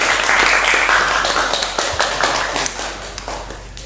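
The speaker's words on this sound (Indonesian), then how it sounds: "tepuk tangan dulu biar tak tegang." Students clap their hands together in a classroom, a dense, fairly loud burst of claps that fades gradually over a few seconds, with no talking over it.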